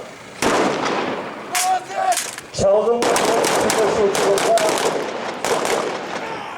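Gunfire rings out at a Kyrgyz police special operation demonstration in Osh, loud rapid shots and bursts that crack across an outdoor space, dense and overlapping, with shouting voices and crowd noise underneath.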